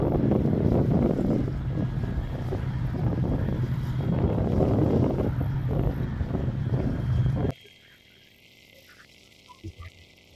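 A large boat turning on a river gives a heavy, continuous engine rumble with wind buffeting, loud and close for most of the stretch, then it cuts away to a much quieter background with a few faint knocks.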